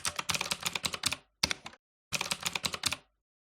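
A computer keyboard is typed on in quick close bursts of clicky keystrokes, with two short pauses between the runs of typing.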